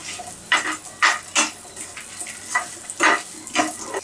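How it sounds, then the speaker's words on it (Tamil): Small shallots and dried red chilli sautéing in a pan for Kerala fish kootu masala, steady sizzle with repeated loud scraping stirs at an irregular rhythm, close and without talk. "போட்டு நல்லா வதக்கிக்கலாம்"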